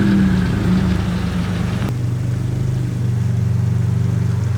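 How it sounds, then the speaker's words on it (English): A Toyota GR86 engine idles at night, then its steady hum shifts in pitch as the car starts moving, close and continuous with no talking. "I'm gonna move my car"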